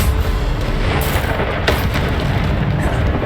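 Bombarda blasting spell detonating in Hogwarts Legacy, a loud, sustained booming explosion with a dense rumbling roar and a few sharper bursts on top.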